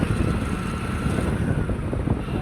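Wind buffets the microphone on a scooter riding along a road, a loud, constant low rumble with engine and road noise blended underneath, no voices heard.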